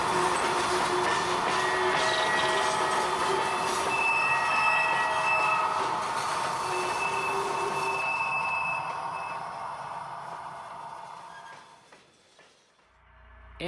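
An HO scale model coal train with helper locomotives rolls on its climb with a steady metallic rumble, squealing wheels and tonal whines. The sound gradually fades and thins out until it is nearly gone near the end.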